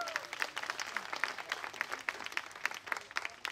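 Audience applause at a live singing performance, welcoming the next singer on stage: moderately distant, even clapping with individual claps standing out, continuing throughout.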